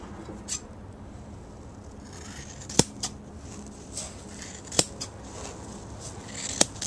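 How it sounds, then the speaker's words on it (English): A block of foam is cut in half to make blanks for HO-scale hopper and gondola loads, giving a few sharp, isolated snips spaced a couple of seconds apart over a quiet room hush. "What I like to do is I'll cut this in half."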